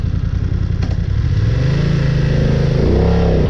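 A BMW Motorrad F 900 R motorcycle is ridden, its engine loud and close, rumbling and then revving up with rising pitch as it accelerates.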